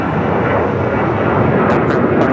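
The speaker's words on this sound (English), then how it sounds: "Looks like British Airways heading over to the southeast corner of Tom Bradley." A British Airways airliner passes over LAX near the Tom Bradley terminal, its engines a loud, steady broadband roar that holds unbroken through the whole stretch.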